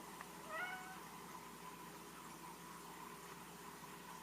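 A house cat gives one short, close meow near the start, then only a faint steady background hum remains.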